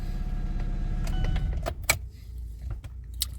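A cold Chevrolet Lacetti engine runs rough up close, a low uneven rumble under a scatter of sharp clicks and metallic knocks.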